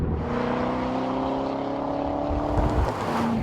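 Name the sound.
2014 Chevrolet Corvette Stingray Z51 pushrod engine running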